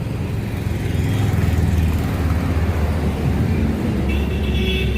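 A Kochi metro train passing overhead on an elevated line near the Ernakulam DCC office, a loud continuous low rumble with roaring wheel and traffic noise that stays strong throughout, with no voices.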